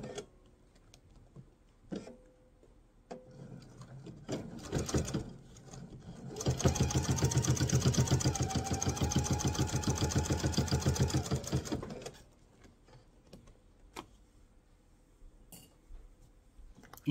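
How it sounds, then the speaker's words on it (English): A sewing machine stitches through thick mesh tote pockets: one sustained, close run of steady rapid needle chatter lasting several seconds, framed by quieter handling clicks and taps before and after. "just slow down and give your machine a chance to adjust a little bit to that thickness"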